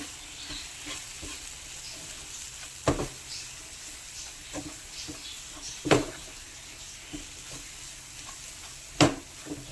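Kashmiri chili powder mixed into mango chutney in a pan: a low steady sizzle with soft scraping of the spoon, punctuated by three sharp knocks against the pan, close by, with no talking.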